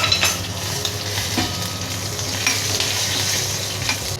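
Mustard seeds, cumin, hing and curry leaves sizzle in hot oil for a batata bhaji, a steady close hiss of frying with faint crackles and stirring throughout.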